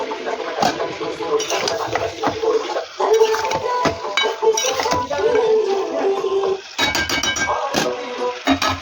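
Potatoes tipped into a pot of mutton kosha and stirred, with scraping and clinking of a spoon against the pot over a steady sizzle, continuous and close, dipping briefly in a few spots.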